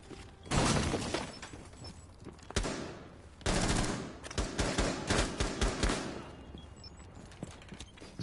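Smoke breaching a wall in a Rainbow Six match: bursts of gunfire and crackling, shattering debris in several loud clusters, with sharp cracks scattered between them.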